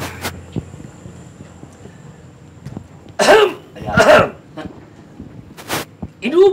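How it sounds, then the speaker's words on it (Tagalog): Several loud, close coughs come in sharp bursts over a quiet background, with a final cough cut short at the end. "Inuubo ba kayo katulad ko?"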